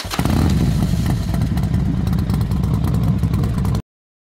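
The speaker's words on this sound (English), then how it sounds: "The defining feature of the 2025 XDiavel V4 is undoubtedly its heart, the V4 Granturismo engine." A 2025 Ducati XDiavel V4 motorcycle's V4 Granturismo engine rumbles and revs close by, a loud, gritty mechanical roar that holds steady for a few seconds before cutting off abruptly.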